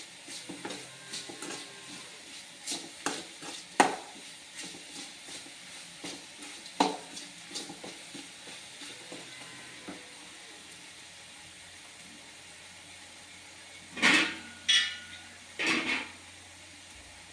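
Tomatoes sauté in a pan for a gravy, with a quiet sizzle under scattered spoon scrapes and clinks on the pan, a few louder clatters near the end.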